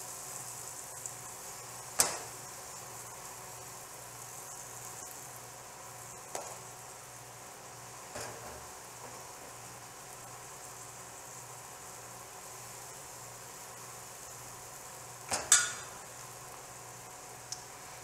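Small discs of pancake batter frying in a pan with a little oil, a soft steady sizzle throughout with a few faint clinks and taps of a spoon.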